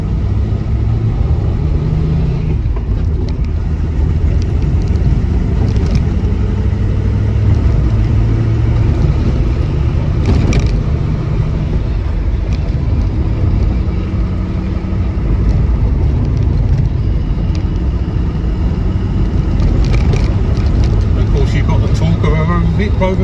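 A 1974 MGB GT V8 engine drones steadily as the car cruises in top gear, a continuous low rumble with road noise that stays loud and even throughout.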